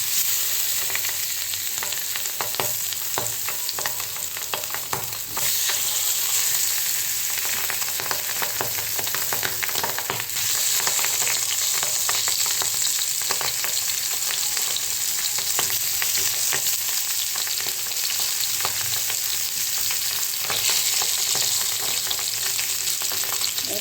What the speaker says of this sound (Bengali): পাঁচটা প্রথম ভেজে নিই দেখো পাবদা মাছ একটু ফাটে